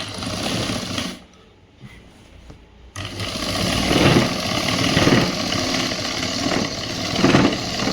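Tailoring sewing machine stitching a boys' school uniform shirt, a steady motor whir interrupted by a brief pause, then resuming louder and continuous up close.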